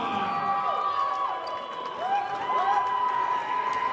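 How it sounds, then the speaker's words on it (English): Spectators cheering at a men's volleyball match between USB and PUC, a steady crowd roar with rising shouts and whoops, holding loud for several seconds. "who's getting a nice little cheer from the people on site"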